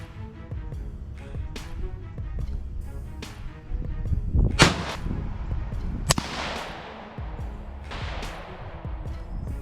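A Rossi .17 HMR rifle fires two sharp, loud cracks in an outdoor setting, a few seconds apart, each with a short ringing decay, set against quieter background noise.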